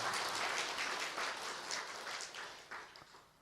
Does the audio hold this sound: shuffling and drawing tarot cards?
no